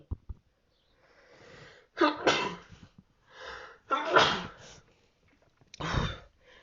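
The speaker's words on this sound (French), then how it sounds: "Les éternuements, etc." Several sneezes from a person with seasonal allergies, three sharp loud bursts spaced a second or two apart, with sniffs and breathy sounds between them in a quiet room.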